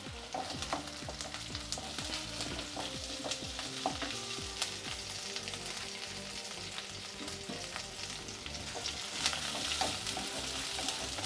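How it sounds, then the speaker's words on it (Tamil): Green chilies sizzling and frying in a pan while being stirred, a continuous close crackle with frequent scraping and clinking spoon strokes throughout. "பச்சை மிளகா வதங்கிட்டு இருக்கு."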